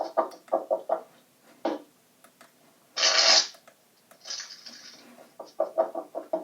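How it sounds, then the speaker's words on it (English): Tarot cards are shuffled by hand in a few quick riffling bursts and broken flutters, with softer card handling and taps between them, close and fairly loud. "let's get a couple shuffles here."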